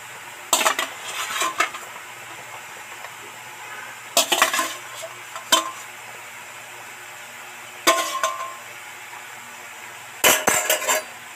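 Fried potatoes being added to a pot of boiling chicken curry, with scattered metallic clinks and scrapes of a spoon against the cookware in short bursts separated by quiet simmering.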